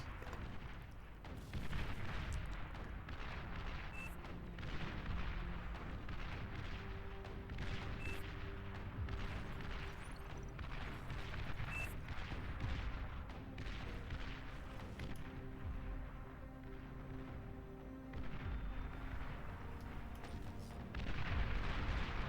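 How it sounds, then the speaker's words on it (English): Massed Sheldon artillery units firing nonstop in the strategy game Beyond All Reason during an 8v8 battle, a dense, continuous barrage of overlapping booms and thuds, loud and unbroken with no talk. "all these Sheldon firing away, and it still didn't want to go down"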